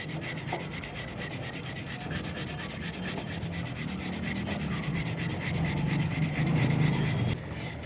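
A brush scrubs a kerosene-soaked Pulsar NS 200 motorcycle chain with fast, continuous rubbing strokes, close and steady, growing a little louder toward the end.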